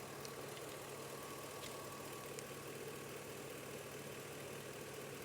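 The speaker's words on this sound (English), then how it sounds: "The compressor's running, which is really weird." Car A/C compressor running steadily with an engine hum, a continuous even drone with a faint hiss on top, no talking.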